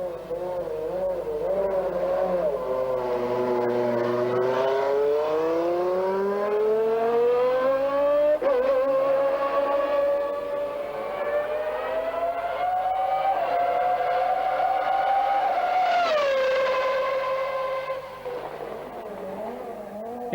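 A 1996 Sauber C15 Formula One car at the A1-Ring gives a loud, close, high-pitched engine howl that climbs repeatedly through the gears, with brief dips at each shift and a sharp rise near the end before easing off.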